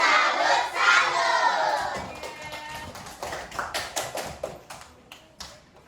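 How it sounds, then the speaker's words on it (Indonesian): Schoolchildren in a science class shout a chant together, then break into a rhythmic run of sharp, close claps in a patterned clapping routine, the claps fading toward the end. "coba kita tepuk salut dulu"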